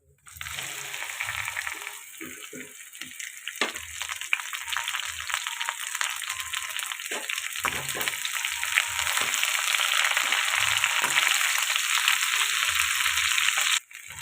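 Cut okra (bendakaya) hits a pan of hot tempering spices and fries with a dense, steady sizzle that swells louder over time, with occasional clinks and stirring scrapes near at hand and no talking.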